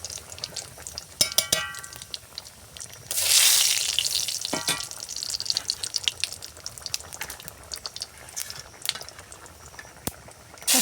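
Whole cumin and dried chillies hitting hot mustard oil in a wok, a sudden close burst of sizzling that flares then settles, with scattered clinks and stirring taps around it.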